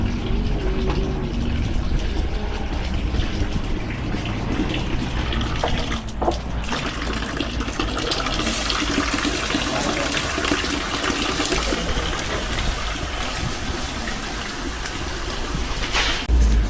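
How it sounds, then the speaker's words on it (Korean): Water sprays and splashes steadily from a burst hose at an outdoor car wash, a continuous gushing rush heard alone for the whole stretch. "여기는 호스가좀 전에 터져가지고 물이 새는데 물 새는 거를 이렇게 어, 고무로"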